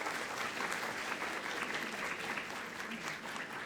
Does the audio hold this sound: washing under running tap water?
no